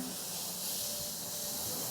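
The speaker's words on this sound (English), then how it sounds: "We can hear that sizzle." A steady, loud sizzling hiss of meat searing on a hot grill, continuous and even throughout with no pauses.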